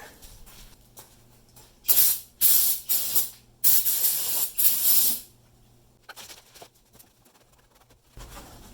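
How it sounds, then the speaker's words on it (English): Five short bursts of aerosol spray paint hiss loudly in a row onto a classic car's frame and engine bay, each under a second, with quiet gaps and faint background noise between them. "Wipe it down, and we'll go ahead and spray some paint."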